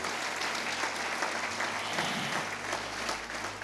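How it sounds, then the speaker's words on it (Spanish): A church congregation claps together in steady, dense applause, fairly close and even, with a low sustained musical tone humming beneath it. "Dale un aplauso al Señor, aleluya."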